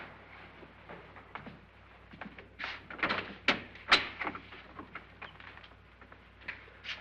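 Doors in an old house opened and shut, a series of knocks, creaks and latch clicks with a couple of sharper bangs in the middle, fairly close and moderately quiet.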